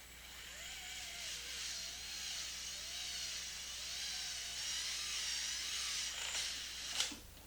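A power driver whirring steadily while tightening a drive cup on a Traxxas X-Maxx RC truck, a continuous close motor whine with slight pitch wobbles, ending in a short clack.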